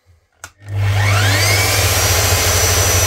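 A Metabo BAE 75 belt sander is switched on after a couple of faint knocks, spinning up into a loud, steady motor whine with a strong low hum that holds at full volume.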